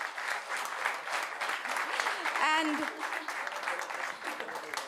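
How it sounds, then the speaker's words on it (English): Audience applause for panelists at a conference fills the hall, sustained dense clapping with a brief voice and a short tonal sweep in the middle. "So for them, big applause,"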